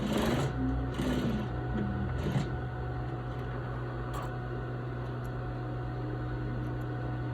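Sewing machine running steadily while stitching a lab coat, a close, continuous mechanical whir with a few brief bursts of faster stitching near the start.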